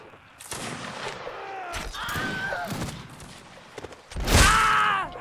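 Musket fire in the Mount & Blade Napoleonic battle game cracks in several separate bursts, with a loud volley near the end amid groans and battlefield noise.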